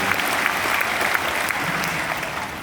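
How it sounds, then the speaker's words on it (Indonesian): Loud, dense applause from a church congregation fills the space steadily, broad crackling claps with no pauses, a few sharper hits standing out near the front. "Tepuk tangan yang paling meriah."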